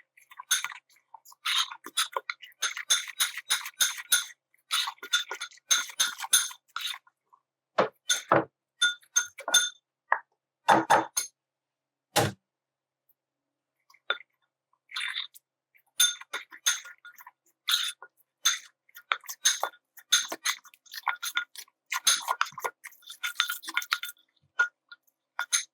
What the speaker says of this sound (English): Get a fork to whisk it up.